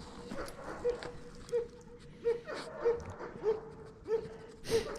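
Dogs whimpering and barking, with rhythmic high yelps repeating about every half second, fairly close, over a noisy background with a voice faintly present.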